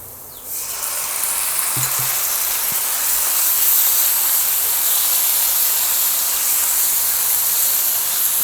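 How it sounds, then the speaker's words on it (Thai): Sliced pork stir-fries with chili and garlic in a hot pan for Thai holy-basil pork. A loud, continuous sizzle and hiss bursts in after a brief quiet start and holds steady throughout. "ผัด พริกกระเทียมให้หอมก่อนนะคะ แล้วก็ใส่หมูเลยค่ะ"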